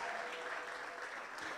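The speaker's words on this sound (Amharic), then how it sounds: "አጨብጭቡ ለጌታ ክብር ይሁንለት" A church congregation applauds at a worship service, a dense, steady wash of many hands clapping at an even level throughout, with no speech over it.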